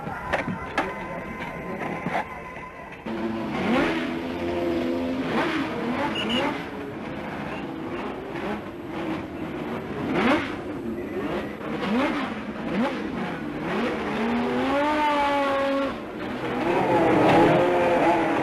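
Formula One cars at Argentine Grand Prix practice in Buenos Aires on a hilly, winding circuit, engines revving and sweeping past loudly and continuously with rising and falling pitch, one car after another.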